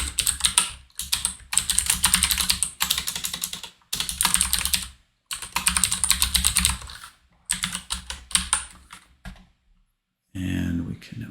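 Java code is typed on a computer keyboard in quick bursts of clattering keystrokes, separated by short pauses, close and clear, with brief spoken remarks between bursts.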